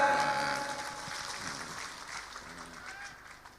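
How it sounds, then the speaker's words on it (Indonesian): Audience applause for a guest general at a lively religious talk, a broad wash of clapping that starts fairly loud and slowly fades over a few seconds, with faint voices mixed in. "Nah, tepuk tangan untuk Pak Wakasat."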